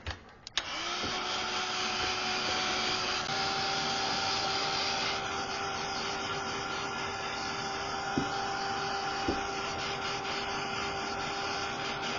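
A hair dryer or heat tool runs as a steady, continuous whir while it dries a gesso layer in an art journal. It starts after a brief click, holds a constant drone, and has a couple of faint knocks partway through.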